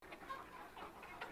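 Tiger chickens clucking in a poultry room, a few soft overlapping clucks rising and falling over a brief span, moderately near with no talk.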